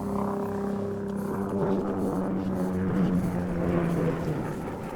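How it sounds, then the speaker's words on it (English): A helicopter flies over a corn field, heard as a steady low droning hum with a buzzing engine tone that stays fairly constant and moderately loud. "Helicopter making noise now."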